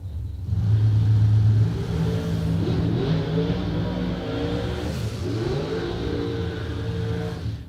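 Two cars in a double breakout drag race launch and accelerate down the strip, a loud engine roar that rises in pitch through the gears, sustained and heard alone without talk.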